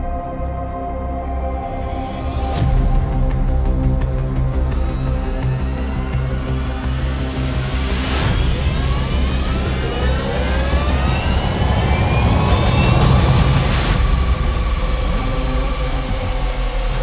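An Ultraviolette F77 electric motorcycle is run at top speed on a dyno. Its loud, steady electric motor whine climbs and shifts in pitch with tonal sweeps, and a roaring roller drone runs underneath throughout.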